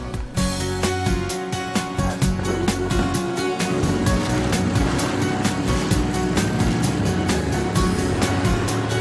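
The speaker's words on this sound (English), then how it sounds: "got on a rubber boat and headed to Sodo." A motorized rubber boat's motor drones loudly and steadily over the sea near Dokdo, with a rhythmic thumping as the hull slaps the water and wind and spray rushing past.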